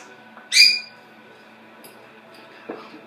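A pet bird gives one short, bright whistling call, loud and close, then a few faint chirps follow in a quiet room.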